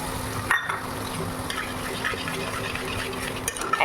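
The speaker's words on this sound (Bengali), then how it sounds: "তারপর টমেটো পেস্টটা আমি পুরো তোমরা একটুখানি জল দিয়ে বেটে নিও, তার সাথে রসুন শুকনো লঙ্কা পেস্টটাও দিয়ে দিলাম।" Tomato paste with garlic and dried chili paste frying and sizzling in oil, a steady close hiss with occasional stirring scrapes, no talking.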